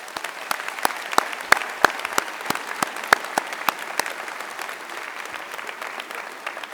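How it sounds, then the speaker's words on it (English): Scattered hands clap at an economics undergraduate commencement ceremony, a thin round of individual sharp claps with a soft wash of applause beneath, tapering off toward the end. "So please give them a big round of applause."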